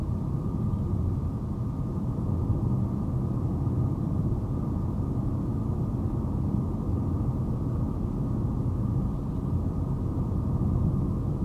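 A 2024 Chevrolet Trax 1RS with a turbo three-cylinder engine pulls steadily up a hill, heard from inside the cabin as a low, even engine drone blended with road rumble, no talking.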